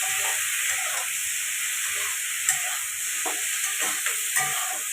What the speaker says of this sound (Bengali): একটু নাড়াচাড়া করে ভালো করে ভেজে নেব পেঁয়াজ কলি আলুটাকে